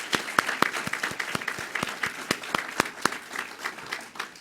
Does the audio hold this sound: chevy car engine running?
no